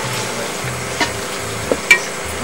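Dried red chillies frying in a pan for Andhra gongura chutney, a steady low sizzle close by, broken by a few light scraping knocks as they are stirred.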